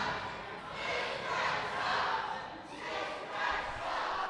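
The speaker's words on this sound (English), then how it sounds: "The boos are for Ref DJ again." Wrestling arena crowd booing the referee, a continuous mass of voices rising and falling in slow surges at moderate distance.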